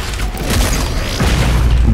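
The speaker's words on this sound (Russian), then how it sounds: "Они поглощают, они перегреваются и они взрываются." In the DOOM Eternal video game, an overheated shield explodes with a loud, dense rumbling boom. It is a sustained, heavy blast with crackling debris that fills the whole moment, and no talking is heard.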